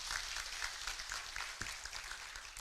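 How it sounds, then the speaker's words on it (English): An audience at the Kenya School of Government in Nairobi claps after a speech, a brief, fairly faint patter of steady applause with no voices. "Let's give Prof another round of applause"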